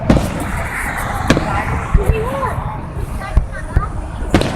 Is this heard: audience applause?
no